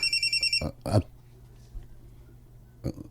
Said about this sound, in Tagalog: Hey, may ring ang imong phone, no?